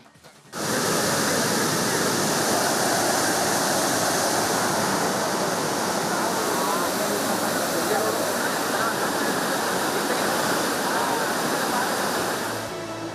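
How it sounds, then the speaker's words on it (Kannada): Mallalli waterfall in Kodagu gushing in heavy rain, a loud, steady, broadband roar of falling water that starts abruptly after a brief quiet opening and holds constant and close throughout. "ಇದರ ಮಧ್ಯೆ ಧುಮ್ಮುಕ್ಕುತ್ತಿರುವಂತಹ ಜಲಧಾರೆ"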